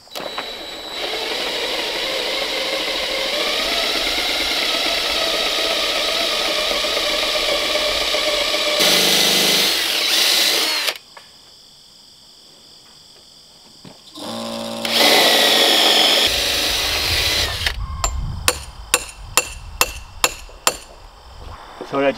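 A drill bores through 6x6 wooden sill plates for a post-and-beam garage, a long, loud, steady whine that stops, then returns in a second run, followed by a string of sharp rapid knocks, close by.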